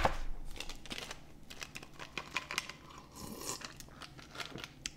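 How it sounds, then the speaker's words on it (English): Ice cubes rattling inside an iced coffee cup, a string of close, crisp clinks and crunchy shakes in irregular bursts, fairly quiet and heard alone. "Could be the ice shaking in my..."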